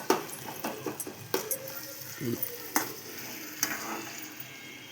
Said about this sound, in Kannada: ಎಲ್ಲ ಎಣ್ಣೆಯಲ್ಲಿ ಚೆನ್ನಾಗಿ ಫ್ರೈ ಆಗಬೇಕು ಫಸ್ಟ್